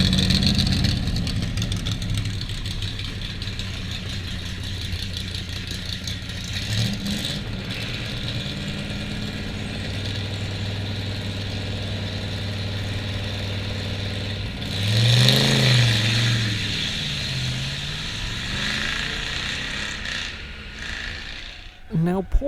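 A Ford Galaxie at the Goodwood Festival of Speed runs with a steady low engine drone, rising into a louder rev around the middle before settling back, with crowd noise and voices around it.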